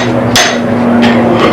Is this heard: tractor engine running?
no